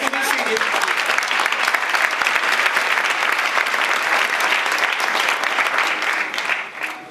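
Sustained applause from an audience at a Haitian roundtable event, a dense, steady wash of many hands clapping that carries on evenly before tapering off at the very end.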